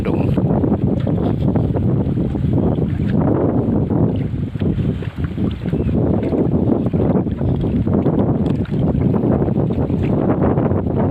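Strong wind roars steadily across an open microphone along the Mekong River, a dense continuous rush with gusty surges.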